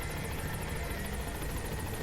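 Continuous rhythmic chopping of a helicopter's rotor blades in Metal Gear Solid V: The Phantom Pain, loud and steady throughout with no talking.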